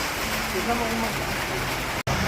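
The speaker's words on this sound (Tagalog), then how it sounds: "mas lalo pang lumakas yung ulan trippers" Heavy rain pours steadily outside a café, a dense continuous hiss that stays loud and even throughout, with a brief cut near the end.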